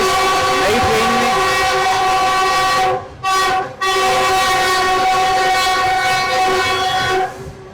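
A new Pakistani passenger train, the restored Khushal Khan Khattak Express, runs loudly and steadily close by, with strong harmonic tones from the carriage. Two short dips break the sound briefly near the middle.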